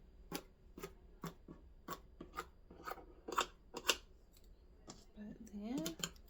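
Scissors cutting cloth, with a series of crisp, evenly spaced snips close by, followed by a murmured voice near the end.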